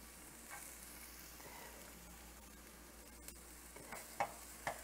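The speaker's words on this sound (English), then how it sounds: "Now I'm going to add my garlic." Garlic sizzles in a pan with softened, charred vegetables for a taco filling, a steady low crackle with a few sharper pops and stirring clinks toward the end, close and fairly quiet, no talk.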